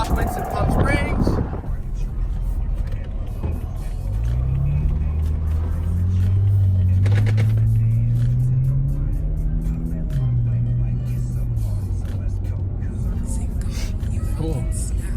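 A car cruising along a road in Palm Springs, its engine a low steady rumble that rises and falls with gear changes, heard from inside the cabin, with someone talking briefly at the start.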